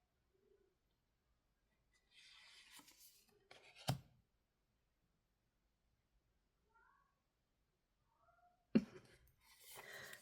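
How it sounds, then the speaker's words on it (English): A pet cat gives a few short, faint meows and soft chirps in a quiet room, with sparse scratchy sounds and a couple of sharp knocks between them. "You might hear my cat in the background."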